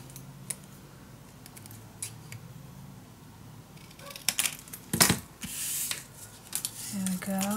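Scissors snip through decorative scrapbook paper during a Halloween mini album craft, a few close, crisp cuts clustered near the end amid quiet handling rustle.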